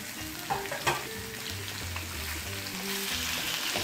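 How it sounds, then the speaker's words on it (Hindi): Chicken pieces sizzling in a hot pan with onions, a steady crackling hiss with occasional stirring knocks and scrapes, close up. "ये चिकन हल्के से फ्राई हो गए हैं प्याज में"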